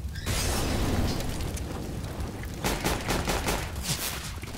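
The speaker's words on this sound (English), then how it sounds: "You shot me, not the enemy." Rapid bursts of CS:GO gunfire crack out after a short quiet start, a sustained volley followed by a second cluster of sharp shots near the end, loud and close with no talking.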